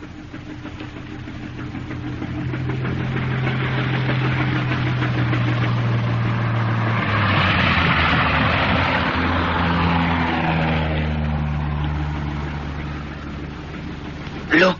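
Aircraft engine drone in a 1960s radio drama, a steady low mechanical hum with shifting pitch that swells mid-scene, mixed under occasional dialogue.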